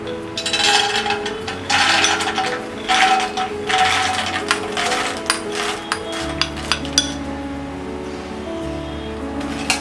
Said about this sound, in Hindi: तेल गरम हो गया है। हम पीनट्स को इसमें फ्राई करेंगे।